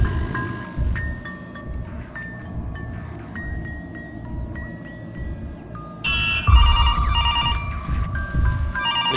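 A telephone rings on and on in a horror video game, with an electronic ring pattern repeating over a low, droning ambient soundscape that grows louder partway through.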